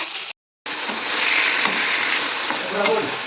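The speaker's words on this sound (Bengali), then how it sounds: "তো মাছগুলোকে আমি ভেজে নিচ্ছি" Fish frying in hot oil in a pan in a home kitchen, a loud continuous sizzle and crackle with a brief cut near the start and a few stirring clinks toward the end.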